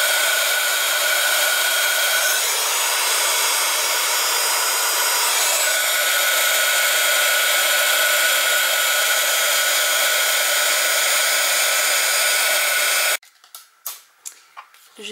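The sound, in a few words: heat gun melting embossing powder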